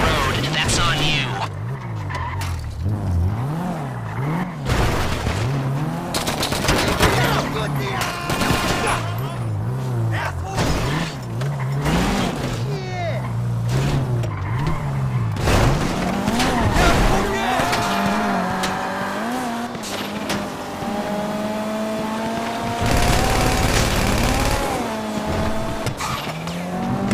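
A heist car in the video game GTA Online drives with a revving engine and tires squealing in several skids, loud and close, alongside music and someone talking over the driving.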